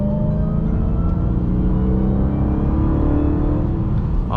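Dodge Hellcat engine heard from inside the car, a loud steady low growl with rising harmonic tones as it revs and accelerates, continuous with no talking.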